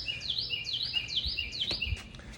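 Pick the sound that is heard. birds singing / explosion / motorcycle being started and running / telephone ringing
birds singing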